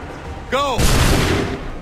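Musket volley in Assassin's Creed III Remastered at Lexington and Concord, a single loud booming crack of massed gunfire after a brief shouted call, trailing into a rumbling decay.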